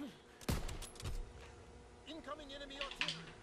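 Heavy artillery fire in a World War 2 video game, with two loud booming impacts early on followed by scattered gunfire and game effects while a voice talks underneath.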